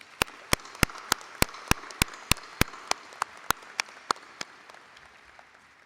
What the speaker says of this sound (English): We can have a round of applause for all of our staff members.